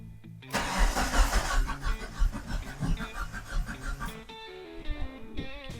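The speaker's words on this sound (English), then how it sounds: "I'm going to go to the other side and crank it." A Mitsubishi Eclipse engine cranks loudly and close by for several seconds, a rough churning that cuts off abruptly near the end. A brief sound follows during an electrical fault check.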